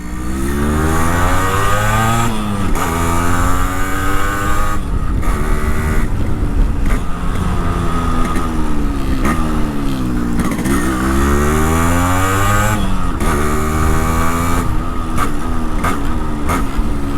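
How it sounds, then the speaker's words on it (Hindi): A Yamaha RX100 motorcycle with a new exhaust pulling hard in first gear, the engine note rising and falling through loud, close revs with brief dips between pulls. "चलो पहला लॉन्च करते हैं बाइक को। First gear, you see that pull,"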